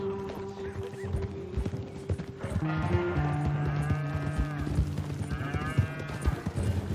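Hooves clop in a steady rhythm close by in Red Dead Redemption 2, with a horse neighing and lowing animal calls mixed in.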